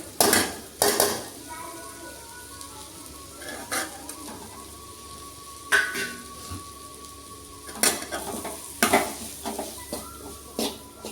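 A spoon scrapes and clanks against a pan as masala powders fry with coconut, onion and tomato. There are repeated sharp metallic knocks over a low steady sizzle, close by, with faint talk in the background.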